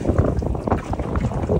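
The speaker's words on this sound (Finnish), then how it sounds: "Hirmuinen puhurituuli." Strong gusty wind buffets the microphone on an open lake during boat fishing, a steady broadband roar with rolling surges and water slapping against the hull.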